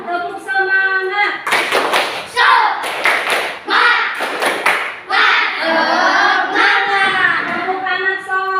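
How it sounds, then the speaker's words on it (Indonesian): A group of children performs the "tepuk semangat" rhythmic clapping routine in an Indonesian Islamic classroom, bursts of clapping alternating with chanted voices and a teacher's leading voice. "Tepuk semangat."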